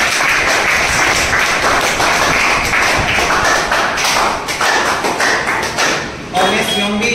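Enthusiastic clapping from a crowd honoring a newly selected Agniveer army recruit, mixed with thuds and taps, loud and continuous, with voices talking underneath and a brief lull near the end.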